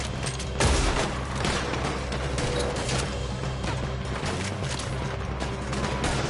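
A Red Dead Redemption 2 shootout rages as rapid gunshots crack and boom one after another at close range, forming a steady, dense barrage of repeated bangs with no talk heard.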